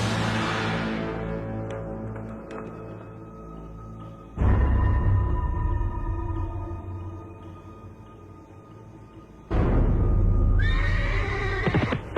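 A horse whinnies loudly and near in a period drama setting, with bursts of neighing and snorting around the start, middle and end, over a steady low background of hooves and movement.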